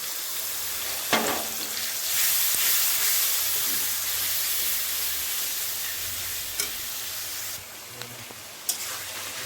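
Ground cumin, turmeric and coriander paste frying with onion, ginger and garlic in a pan for a goat meat curry, a steady close sizzle with a few sharp stirring scrapes and clinks, no talking.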